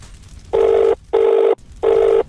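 An outgoing telephone call rings back with three loud, evenly spaced bursts of buzzing tone, separated by short silences.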